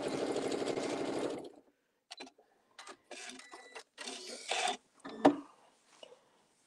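An electric sewing machine stitches a quilted table mat in a steady close whir for over a second, then gives several shorter bursts of stitching separated by quiet pauses and small handling clicks.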